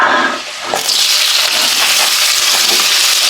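Ginger sautés in hot oil in the same pan where pompano fish was fried for sweet and sour pompano, a loud continuous sizzle with scattered pops and spatters close by, no talking.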